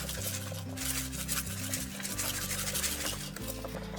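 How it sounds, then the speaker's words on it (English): A spoon scrapes and rubs steadily around a pot while flour is stirred into a lightened broccoli cheese soup, a close, continuous rasping under background music. "I'm gonna sprinkle in my 1/4 cup flour and stir that in"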